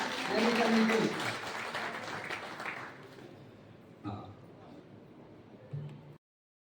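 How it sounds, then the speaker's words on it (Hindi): Loud applause from an audience at a spiritual gathering, strong at first and then thinning quickly into scattered claps with a murmur of voices beneath. "आप सबकी ओर से एक बार जोरदार तालियां हो जाए"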